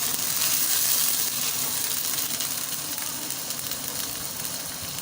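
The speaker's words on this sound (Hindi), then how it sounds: "गोश्त को अच्छी तरह भून लेंगे जब तक इसका कलर चेंज नहीं हो जाता।" Chicken meat sizzling in a hot pan for a bhindi gosht curry, a steady, close broadband frying hiss that holds evenly throughout with no voices.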